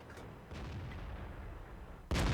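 Tank cannon firing in World of Tanks, a Pz 58 Mutz: one loud, sudden blast at the end, after a steady low rumble of engine and battle noise.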